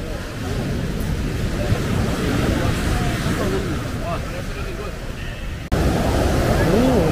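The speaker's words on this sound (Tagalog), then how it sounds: "Oh, lakas ng waves." Strong ocean surf rolls onto a beach in Bali, a continuous loud roar of breaking waves mixed with wind buffeting the microphone, while people talk faintly beneath.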